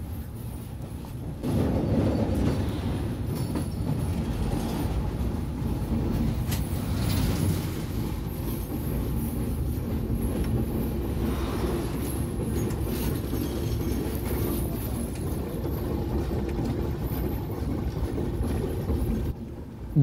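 A train rumbles steadily across the long Jamuna rail bridge on the Dhaka to Rajshahi line, a loud continuous roar with rhythmic clatter heard from inside a carriage for the whole stretch.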